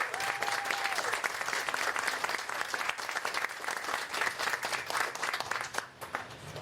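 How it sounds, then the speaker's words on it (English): An audience applauds the Clear Horizons team at the opening of a new mental health center in Front Royal: steady, dense clapping from a crowd that carries on without a break and eases slightly near the end. "let's go ahead and give a round of applause to the Clear Horizons team"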